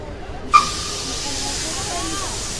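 A small steam locomotive on a Limousin tourist railway suddenly lets off steam, a loud, sharp burst that settles into a steady, close hiss lasting to the end.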